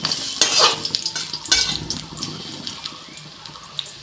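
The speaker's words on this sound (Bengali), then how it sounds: "তো সব বড়াগুলো নিয়ে ছেড়ে দিলাম, এখন উল্টো পাল্টা ভালোভাবে ভেজে নেব।" Greens fritters sizzle and spatter in shallow oil as they are turned over, with brief scraping and stirring knocks at the start and a steady crackle running underneath, close by and with no talking.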